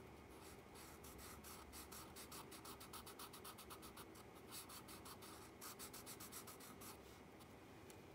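Pen or pencil drawing on paper, a steady run of scratchy, rhythmic strokes close to the mic for the whole stretch, with no voices over it.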